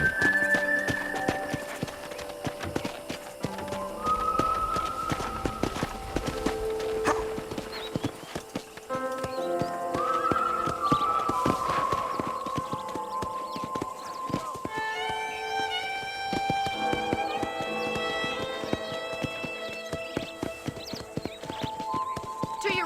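Horse hooves clip-clop at a steady gallop in the western video game Red Dead Redemption, loud and continuous, with a whinny, music and occasional talk.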